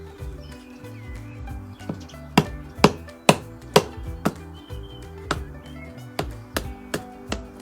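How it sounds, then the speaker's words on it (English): A knife blade cuts small pieces off wood for a mallet, carving a little at a time: a string of crisp, close taps and chops in an uneven rhythm, with a low steady hum underneath. "I'm using the part of the knife blade closest to the handle, and I'm just going to take off a little bit at a time"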